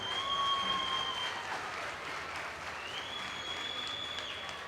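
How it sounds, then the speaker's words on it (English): Steady applause from an audience at a market steer show and showmanship event, honouring the young exhibitors; a moderate, continuous patter with a faint tonal whistle or feedback line running through it. "give them a round of applause"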